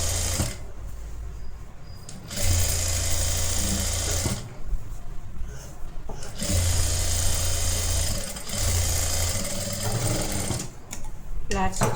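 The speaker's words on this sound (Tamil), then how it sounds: "ஓப்பன் பண்ணி ஃப்ளாட் ஸ்டிச் போட்டுக்கோங்க" A sewing machine runs in repeated bursts, flat-stitching a collar neck blouse, with the motor whirring loud and close and starting and stopping several times while someone talks over it.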